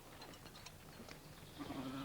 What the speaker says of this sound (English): Helping to catch and sort out the sheep